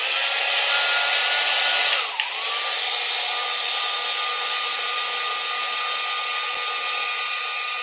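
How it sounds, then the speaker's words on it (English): Card-making heat tool blowing steadily and loudly from start to finish, a continuous broadband whoosh like a hair dryer, with a brief dip and change in pitch near two seconds before it settles back to a constant roar. "Right now I'm going to use my heat tool."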